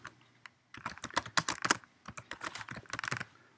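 Fingers tap quickly on a computer keyboard, a close, fairly quiet run of irregular clicking keystrokes after a brief pause at the start.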